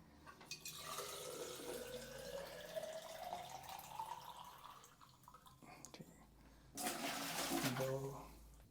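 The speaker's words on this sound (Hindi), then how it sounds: "ये 4 लीटर सोल्यूशन या 4 लीटर पानी अब मैंने डाल दिया बाल्टी में" Four litres of water pours into a bucket for home 35mm film developing, its pitch rising steadily as the bucket fills, followed by a louder splashing gush, with someone speaking quietly alongside.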